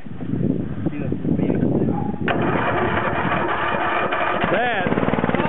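A cold lawn mower engine turning over slowly on a dead battery, giving a labored, uneven cranking churn that carries on and then shifts into a steadier mechanical whir; close and loud, with people talking over part of it.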